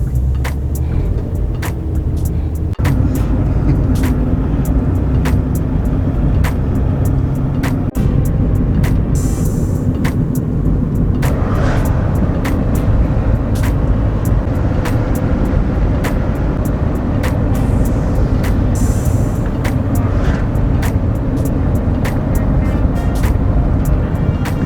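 Cars idling and creeping along in a traffic jam on Highway 12 through Dixie National Forest, a steady low rumble of engines lasting throughout with no talk.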